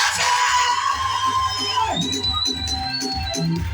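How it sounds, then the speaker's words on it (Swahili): A church congregation cheers for Mama Jane with a burst of whoops, shouts and yells from the crowd. A high whistling tone rises through the fairly loud, mixed clamour. "Tumpige mama Jane makofi. Bwana Yesu makofi."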